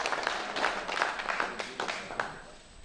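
Applause from an audience at a Hindi poetry gathering, a steady patter of many hands clapping at moderate level, with brief louder swells and no clear voices.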